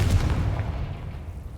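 A Confringo blasting spell goes off in Hogwarts Legacy as a single deep boom at the start, rumbling heavily then decaying steadily into quiet.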